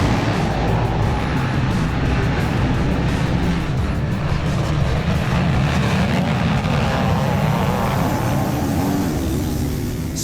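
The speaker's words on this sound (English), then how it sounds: "Click it into gear, the heads go down, the revs go up, and the gates have dropped." A pack of motocross bikes, including a YZ500 two-stroke among 450s, revs hard at the starting gate of a national championship race, a dense, loud, continuous engine roar that holds steady throughout.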